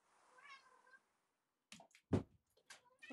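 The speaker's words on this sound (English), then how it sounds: "Wait, my cat's meowing." A soft cat meow is heard, followed by a couple of sharper, louder meows and short vocal chirps, close by with no talking.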